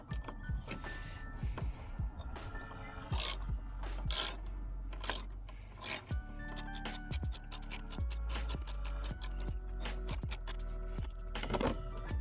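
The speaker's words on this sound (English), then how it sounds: "then you're going to tighten it with your socket wrench" Socket wrench tightening a 10mm bolt while fitting engine bay side covers, a series of close ratcheting clicks in short bursts with pauses, fairly quiet and alone.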